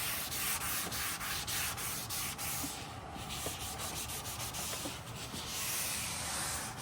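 A cloth rubs cleaner onto a white surface in a close, steady back-and-forth swishing with faint rhythmic strokes and no voices.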